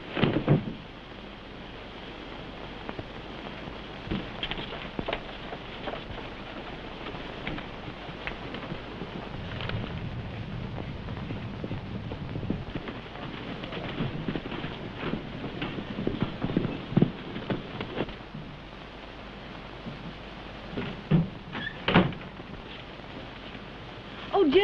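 Horse hooves clip-clop steadily on a western frontier set, heard alone under a windy, hissing old-film background with no talk.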